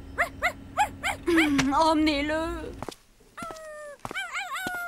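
A cartoon dog lets out a quick series of bright, rhythmic barks, followed by whining, howl-like cries amid sharp sound effects, with a voice speaking briefly between them.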